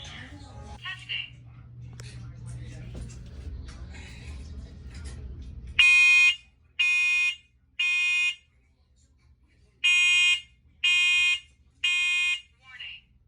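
Home smoke alarm sounding during a test, firing six loud, close beeping bursts in two groups of three after a stretch of spoken voice announcements.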